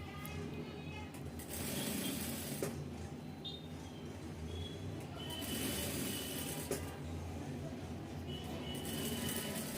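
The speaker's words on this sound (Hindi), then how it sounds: "फोल्ड करने के बाद जो है तो आप सीधी सिलाई लगाएंगे।" A sewing machine runs a straight stitch to attach piping on a blouse, with a steady whirring drone that pauses briefly and then continues, heard close up.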